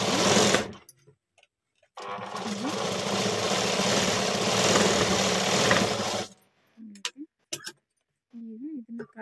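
A sewing machine runs steadily for about four seconds, stitching a folded strip along the square front neck of a blouse, followed by a few short bursts of stitching and faint handling sounds.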